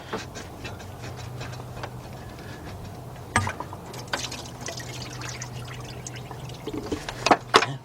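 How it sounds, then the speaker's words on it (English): Antifreeze pours from a Ford radiator hose into a drain pan, a steady splashing trickle heard close up with scattered clanks and knocks of handling, growing busier near the end, with no speech. "their antifreeze will come out of this hose"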